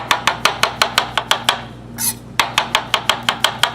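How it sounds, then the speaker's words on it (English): A knife slices mushrooms on a cutting board, about twenty sharp, evenly spaced close taps with a brief pause midway, no talk. "So I'm going to slice them."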